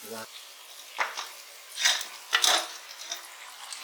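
Marinated country chicken for an Ankapur-style curry is tipped into a pan and stirred, giving a few soft scraping and sizzling strokes with light clinks of the utensil, faint and spaced apart.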